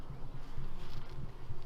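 Honeybees hum steadily around an open beehive with brood frames exposed, a close, continuous low buzz that swells and fades as insects pass near.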